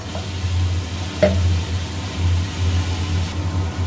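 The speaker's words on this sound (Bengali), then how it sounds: "মশলাটাকে ভালো করে কষে নেব।" Spice paste for ghugni frying and being stirred in a pan after a splash of water: a steady close sizzle with soft scraping under it, with no talk.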